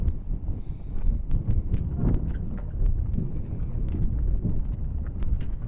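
Strong wind gusts buffet the microphone on the Sheep Ranch golf course, producing a continuous low roar and rumble that swells and eases throughout.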